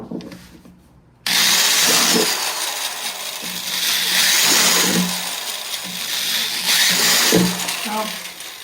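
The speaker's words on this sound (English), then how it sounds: "I like to drill like maybe 3 holes on top like so." A power drill boring holes through the lid of a small plastic worm bin, its whine starting abruptly and running steadily close by with a few pitch dips as it bites through.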